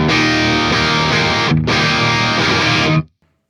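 An electric guitar through the red channel of a Synergy SYN2 preamp module plays loud, heavily distorted chugging chords, with a brief gap before a final ringing chord that cuts off abruptly to silence.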